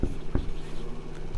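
Chalk or pen scratching across a board during a physics lesson on Ampère's circuital law, a few short taps and strokes close by, fairly quiet with no voice over it.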